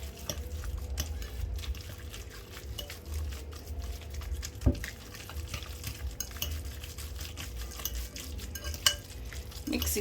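A spoon stirs a meatball mixture with egg in a bowl, soft continuous scraping and mushing with a couple of sharper knocks against the side, quiet and close.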